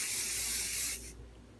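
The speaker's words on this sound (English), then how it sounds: "I've never really used a spray-on primer before until I used the ladyJeunesse spray-on primer" A spray-on makeup primer mist, the ladyJeunesse NV Perfecting Mist, sprays in one steady, close hiss for about a second before cutting off, leaving quiet room tone.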